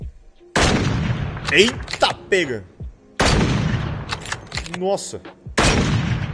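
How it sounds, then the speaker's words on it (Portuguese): New gun in Call of Duty Mobile firing in three sharp bursts of shots, loud and close, with a man's excited exclamations between them. "vamos só dar uns tiros com ela aqui pra gente ver o que a gente acha"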